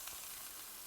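Burger patties fry in a pan with a steady, close hiss and crackle of fat through the whole short stretch, no voices present.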